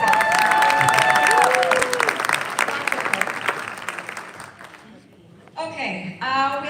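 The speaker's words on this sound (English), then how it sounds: "Can we give him a round of applause?" An audience gives a round of applause with some cheering, loud and dense at first, then thinning out, while a voice speaks over it and a whistle-like tone sounds early on.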